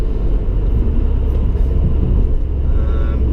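Car cruising on a smooth carriageway at about 50, a loud steady low rumble of engine and tyre noise from inside the cabin with no breaks.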